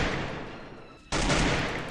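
Dense, rapid gunfire from a video game, loud and continuous, with a brief dip before a sharp burst of heavier shooting.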